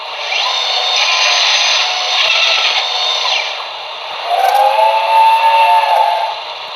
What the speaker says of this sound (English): Oh, that's the whistles that they had at the lumber mills.